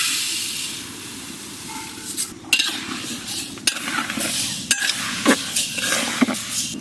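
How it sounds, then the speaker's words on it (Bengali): Mung dal stirred in a pot with scraping, clinking metal strokes over a steady frying hiss, several sharper utensil knocks standing out near and close. "সর্বপ্রথম মুগের ডালটা আমরা ভালো করে ভেজে নিই"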